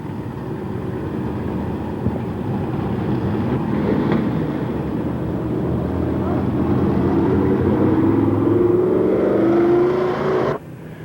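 Late model race cars run on a dirt track at a county fair speedway, engines droning and swelling as a car accelerates past, rising pitch building before an abrupt cutoff near the end.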